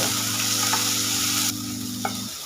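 Rice frying lightly in a pan with chopped onion, tomato and green chillies gives a close broadband sizzle over a steady low mechanical hum that cuts out near the end, with one brief clink of a utensil.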